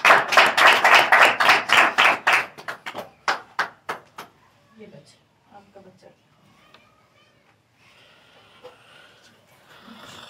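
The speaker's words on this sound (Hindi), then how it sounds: "खुदा के जलाल के लिए ज़ोरदार तालियां" A church congregation claps loudly at a worship service, a fast rhythmic burst of claps that fades out over about four seconds, leaving only faint scattered sounds and a little talk.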